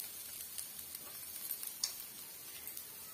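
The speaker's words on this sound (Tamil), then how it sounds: "மிதமான தீயில வச்சு இது போல வறுத்து விடுங்க" Grated coconut roasting in a pan over medium heat: a faint, steady crackle with scattered light ticks and pops, close by and with no voices.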